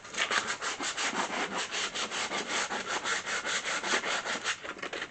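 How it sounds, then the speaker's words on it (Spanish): Sandpaper is rubbed by hand over wood in quick, even back-and-forth strokes, a close, steady rasping with a regular rhythm of about five strokes per second and no voices. "Voy a utilizar una lija de las mismas que estoy usando en la lijadora y voy a pasarla un poquito"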